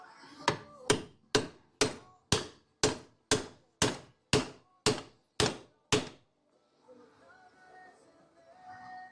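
Twelve sharp, evenly spaced hammer blows strike a Chevelle upper control arm bushing, each a hard metallic thunk with a quick decay, followed by a short pause and faint shuffling noise.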